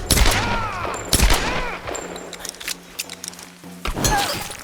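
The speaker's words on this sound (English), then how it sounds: "He's shooting at us!" Gunfire bursts in the Tomb Raider video game on PC, sharp loud cracks in quick clusters near the start and end, with character shouting and music between the shots.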